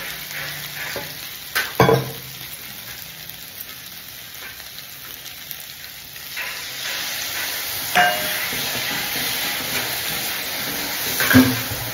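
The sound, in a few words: fried fish heads cooking in spice paste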